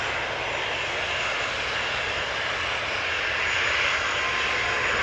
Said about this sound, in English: A330-300 having landed on Polderbaan just now